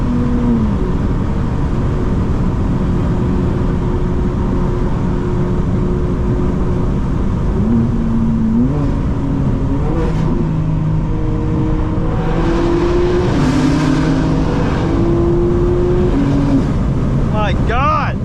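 A 2024 BMW M4 Competition G82 driving hard through traffic, its engine droning loudly and steadily with rising and shifting tones through gear changes, plus a sharp burst near the end.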